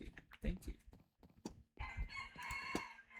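Minecraft chicken sounds in-game, with short clucks and a rooster-like call rising over a quiet background, fairly faint overall.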